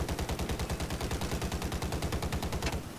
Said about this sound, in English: I'm firing little two-shot bursts